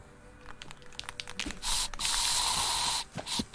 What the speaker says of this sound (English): Stop spray painting on my building